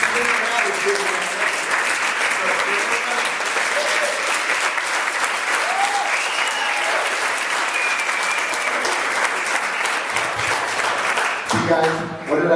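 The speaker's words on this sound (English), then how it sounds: "you're going to applaud again" An audience at a talk applauds in steady, loud, sustained clapping that fills the whole stretch, and near the end a voice starts to speak.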